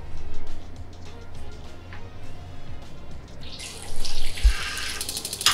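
Water runs steadily from a tap feeding an instant gas geyser, a close, continuous splashing flow. A brighter hiss rises in the last couple of seconds.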